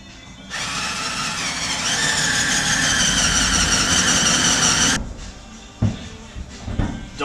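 A Porter Cable power drill runs steadily for about four seconds, its loud whining motor close by, then stops, followed by a few faint clunks and handling noises.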